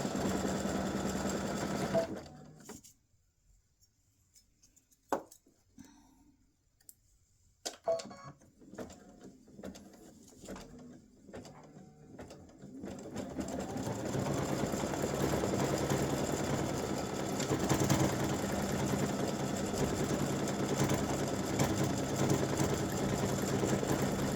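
An embroidery sewing machine stitches freestanding lace earrings, its needle hammering in a fast, steady mechanical rhythm close by, broken by a quiet pause and bursts of start-stop stitching before running continuously again.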